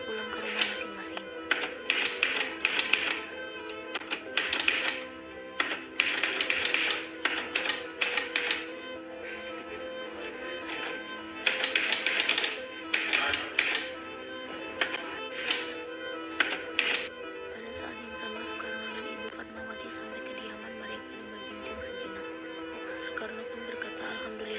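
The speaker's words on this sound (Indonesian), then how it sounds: "Melik pun mengetik teks tersebut pada pukul 4:30 sore" Typewriter keys clatter in quick, uneven bursts during a school drama rehearsal about the typing of Indonesia's independence proclamation, over a steady background murmur with voices present.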